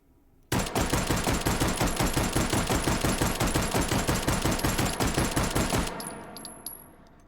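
A Mauser carbine fitted with a muzzle brake fires in rapid succession in the H3VR virtual-reality shooter, a dense, loud string of sharp reports packed closely for about five seconds, then cutting off with metallic clinks and a fading tail.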